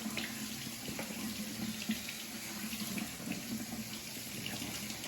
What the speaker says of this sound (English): I'm gonna give them a good rinse with some hot water here.